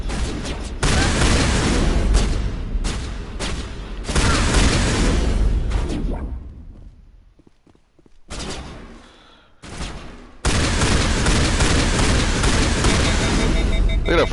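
A shotgun in the Mass Effect video game fires loud, blasting bursts in quick succession, with a brief quieter gap midway before the heavy booming shots resume and carry on to the end.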